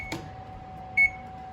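A single short electronic beep from an oven control panel being set to preheat to 450, a faint click just before it, over a low steady hum in a quiet kitchen.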